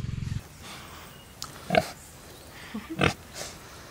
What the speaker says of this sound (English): So there is another pig here.